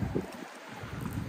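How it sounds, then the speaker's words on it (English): Strong outdoor wind buffets the microphone in a low, rumbling roar that rises and falls unevenly, with a brief lull partway through and no voices. "it's really freaking windy out here"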